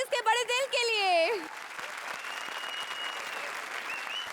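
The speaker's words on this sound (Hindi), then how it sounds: "आप लोग भी ताली बजा सकते हैं हमारे जजेस के बड़े दिल के लिए" A studio audience at a comedy show breaks into sustained applause that stays steady to the end, following a brief stretch of someone speaking loudly over the start.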